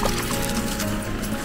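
A Jack Russell terrier splashes in cold river water at Belcastel in Aveyron, France; a steady, close wash of sloshing, trickling water fills the short moment.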